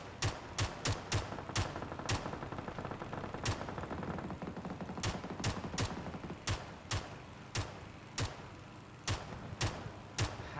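PUBG: Battlegrounds gunfire crackles in sharp bursts of rapid shots, some quick runs of several rounds and scattered single cracks, loud and close over constant game ambience with no talk.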